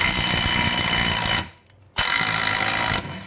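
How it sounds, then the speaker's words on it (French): A power tool drives bolts back into a Mazda engine, probably one with a stripped bolt, in loud close bursts of buzzing that stop briefly in the middle and then resume before cutting out. "on va mettre les vis dedans, puis on va voir si ça se visse"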